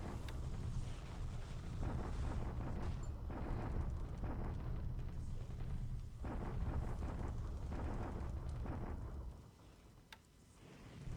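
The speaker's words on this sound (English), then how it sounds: "Bombardment at Clark." Artillery bombardment in a WWII Pacific strategy video game, a steady broad rumbling roar of explosions that holds loud for about nine seconds, then drops away near the end.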